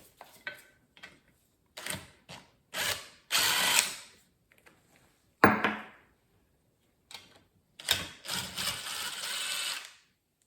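A ratchet or driver working loose bolts on the head of a commercial mixer, heard as separate short bursts of close mechanical clicking and whirring with silent pauses between them.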